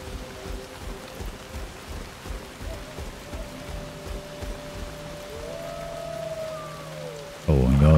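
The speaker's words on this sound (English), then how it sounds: "Boy, it's a rainy day out here, isn't it?" Steady rain falls in the Soulmask game world, a continuous soft patter with faint low rumbles beneath and a few tonal game sounds drifting over it, ending in a louder sudden burst.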